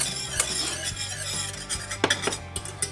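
Sauce just starting to boil being whisked in a pan, a steady scraping and clinking of the whisk with soft bubbling beneath, close and continuous.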